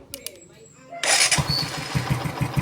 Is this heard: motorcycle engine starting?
yes